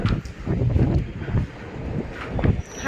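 Wind buffets the microphone in uneven low gusts, a rough, close rumble that swells and drops over a few seconds with no speech.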